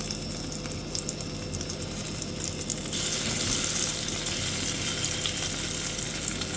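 Puti fish fry in hot oil in a frying pan, a steady crackling sizzle that swells louder and brighter partway through and keeps going, close and with no voices.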